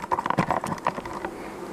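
Honeybees buzz around an opened hive, a close, wavering drone with bees darting near the microphone in uneven bursts, fading slightly toward the end.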